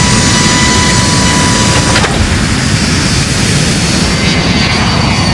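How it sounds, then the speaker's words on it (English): A jet airliner's engines roar at full takeoff power, heard as a loud, continuous broadband rumble that dominates throughout with no voices. "the plane takes off."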